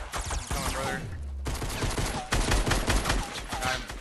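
Rapid gunfire bursts from a Fortnite Battle Royale squad match, loud and dense with a brief pause near the middle before shooting resumes, with faint voices and game sounds mixed in.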